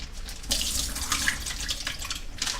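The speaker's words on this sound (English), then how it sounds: "What I do is rinse out the sausage a little bit." Tap water runs steadily into a kitchen sink as beef sausage is rinsed under the stream, a continuous close splashing hiss with slight surges as the flow hits the meat, no talking.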